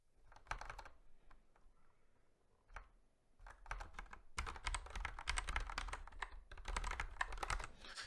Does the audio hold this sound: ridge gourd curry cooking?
no